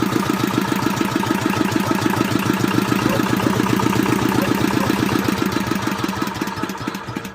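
An R180 single-cylinder diesel engine on a walk-behind tractor runs smoothly and steadily at close range, with a fast, even chugging beat under a droning hum that eases slightly near the end.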